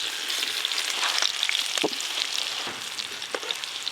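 Potatoes fry in hot oil with a dense, continuous close-up sizzle and a few soft clinks from stirring, steady in level and free of speech.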